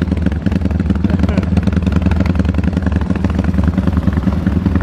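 A newly built Today 371cc motorcycle engine runs at its first start, a loud, close, rapid chugging idle with a steady throbbing pulse and mechanical clatter throughout.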